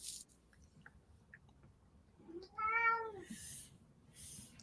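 A single drawn-out cat meow rises and falls in the middle, fairly close, with soft chewing or rustling noises before and bright hissy bursts after.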